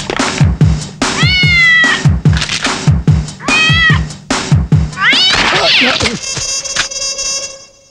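A cat meows repeatedly in loud, drawn-out cries, rising into wailing caterwauls before a sustained, tonal note at the end; close and prominent with no talk.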